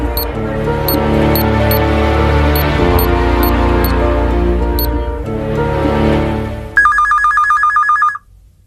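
A telephone rings after a number is dialed, a bright, regularly pulsing electronic trill that sounds near and loud for about a second and a half at the end, following a stretch of sustained dramatic music.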